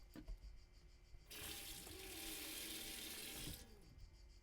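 Tap water runs from a small foldable sink inside a camper truck, a steady broadband rush lasting a couple of seconds after a few faint clicks, then cut off sharply.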